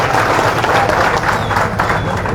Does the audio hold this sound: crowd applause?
yes